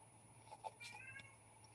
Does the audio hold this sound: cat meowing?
yes